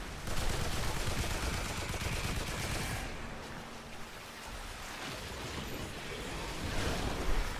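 Gunfire in the Remnant 2 video game during a boss fight, dense rapid bursts like a machine gun, loud and continuous for the first few seconds and then thinning into scattered shots over a rumbling background.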